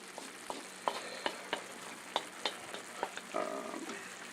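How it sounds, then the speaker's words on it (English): Broccoli, mushrooms and carrots stirred in a bowl in a home kitchen: a spoon scrapes and taps at an irregular pace, close and moderately quiet over a soft sizzling hiss, with no talking. "Stirring this around."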